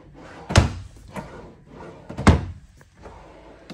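Two solid thunks about two seconds apart as drawers in a 2022 Cedar Creek 40CBAR destination RV are pushed shut, with softer sliding knocks and rattles in between.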